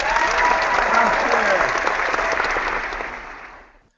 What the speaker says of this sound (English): give both our contestants a round of applause